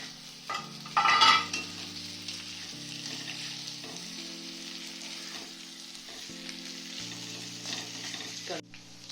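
Potatoes frying in oil in a pan for a potato fry, a busy sizzle punctuated by metal spoon scrapes and clanks against the pan, with a louder burst of spattering early on and a sustained ringing hum beneath.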